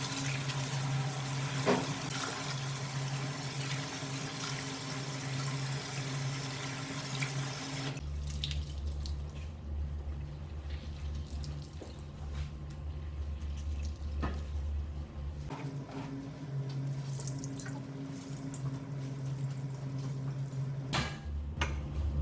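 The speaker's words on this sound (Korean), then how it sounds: "찬물에 느타리에 이물질이 있어서 물에 한번 2번 정도 헹궈낼 거예요" Oyster mushrooms are rinsed in cold water under a running tap, a steady close gushing stream into a sink with shifts in tone as the flow and the handling change, alongside occasional splashes and clinks.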